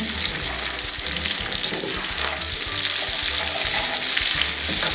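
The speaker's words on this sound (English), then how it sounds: "bacon's cooking" Bacon fries in a pan with a dense, continuous crackling sizzle, close and steady with a low rumble underneath and no one talking.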